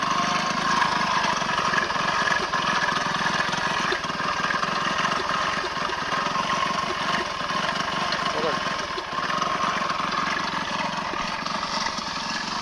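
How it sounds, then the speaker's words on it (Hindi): An old Hero motorcycle engine idles with a crank knocking fault, giving a steady, loud, rough mechanical rumble with a gritty rattle that runs continuously the whole time. "इसके जो इंजन के क्रैंक के आवाज आ रहे ना, खुर्र खुर्र, देखिए वही इशू है।"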